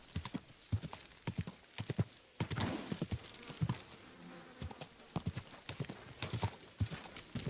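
Horse hooves clip-clop in an uneven, rhythmic patter in a medieval-era video game, Kingdom Come: Deliverance II, with a whinny partway through and occasional soft voices.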